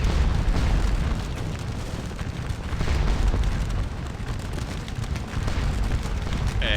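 Napoleonic artillery fires in the Waterloo wargame Scourge of War: Waterloo. Deep booms and rumbling blasts roll on continuously and overlap in a dense, steady barrage.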